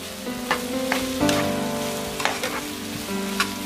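Rice fries in a pan with green pepper and gives off a steady soft sizzle, with several sharp scraping and stirring clicks from a utensil over it, near and alone.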